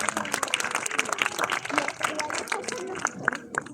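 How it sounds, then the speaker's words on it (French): An audience at a sea lion show at the Zoo de Vincennes in Paris claps in a lively, uneven burst of applause, with voices and crowd chatter mixed in throughout. "On peut les applaudir, bravo"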